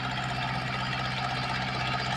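Tractor engine running with a potato planter during potato planting in Lviv region, Ukraine, a steady low droning hum, continuous and fairly loud with no breaks.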